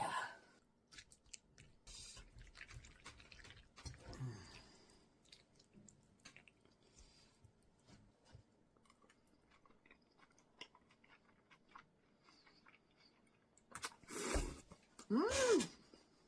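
Korean raw beef yukhoe is chewed close to the microphone, giving soft wet squishing and occasional crunching bites in an irregular rhythm, quiet overall, with brief louder appreciative murmurs near the end.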